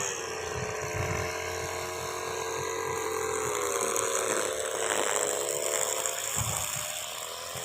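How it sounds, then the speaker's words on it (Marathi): A motorized grass-cutting machine clears grass on school grounds, its high engine whine droning continuously at close range with slight pitch shifts as the load changes and faint thuds from the cutting. "शाळेतील गवत साफ करत असताना मशीनद्वारे"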